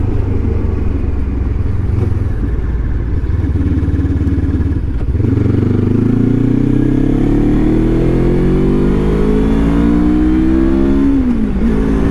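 A Lifan KPT 400 parallel-twin motorcycle cruises with a steady loud engine drone, then opens up and accelerates hard, its pitch climbing through the gears before easing near the end.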